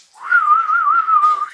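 One person whistles a single steady, slightly wavering note for over a second, close and clear, with no talking.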